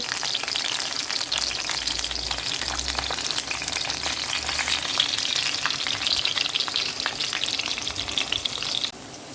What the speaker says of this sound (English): Now that the oil is hot, I'm placing in the plantain. Because I want them to start to fry.